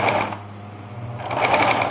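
A sewing machine stitches the seam of a baby slipper in short runs: a brief burst of motor whir, a quieter pause, then a second steady run of close, even stitching.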